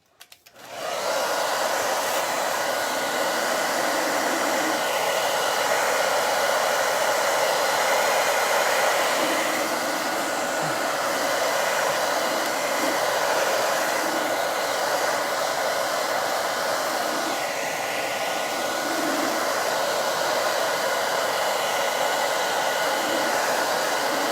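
Hair dryer blowing continuously to dry crackle medium on a craft project, switching on abruptly then holding a loud, steady close whoosh for over twenty seconds, with no talking.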